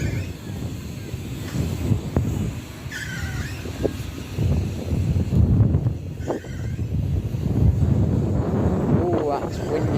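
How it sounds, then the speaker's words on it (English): Strong gusting wind buffets the microphone in loud, rumbling blasts at an outdoor theme park, with background noise and occasional voices mixed in. "that wind is really picking up now"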